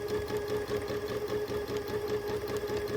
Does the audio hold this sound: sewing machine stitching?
yes